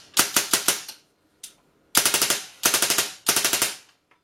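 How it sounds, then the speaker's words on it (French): An airsoft replica running an HPA Mamba system fires in several rapid bursts of sharp, close snaps separated by brief pauses, with a single isolated shot between groups and a faint click at the end. "si j'arme normalement la réplique et que je passe en semi, elle va tirer"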